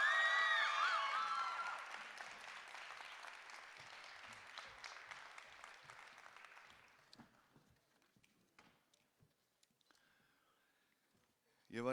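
Audience applause at an Icelandic music competition heat night, Músíktilraunir 2026, for a band: a dense burst of clapping with whoops that fades out over about seven seconds, then scattered claps and a voice near the end.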